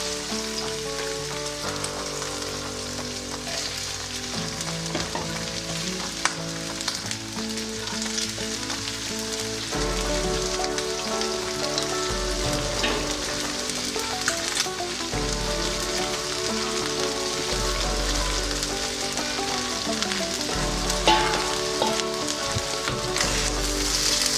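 String beans (sitaw) fry in a pan for adobong sitaw, giving a continuous, even sizzle with a crackling, rain-like texture and a soft musical background beneath.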